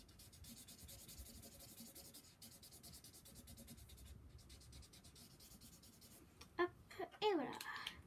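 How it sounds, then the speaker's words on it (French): Soft, rapid scratching of a pencil coloring on paper, faint and close, with a short tonal squeak of something else near the end. "Donc, je vais le colorier."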